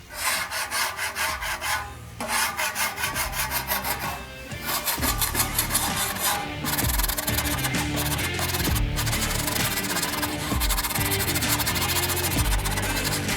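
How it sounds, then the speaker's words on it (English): A scraper grinds and rasps across a flat top griddle, clearing away heavy soaked-on gunk in loud, continuous, close strokes with short pauses between passes. "scrape all the heavy gunk off of here"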